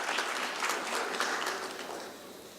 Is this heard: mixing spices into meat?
no